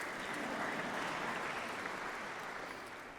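Congregation applauding during an Easter sermon in a church, an even wash of many hands clapping at moderate volume that holds steady and tapers slightly at the end, with no voices.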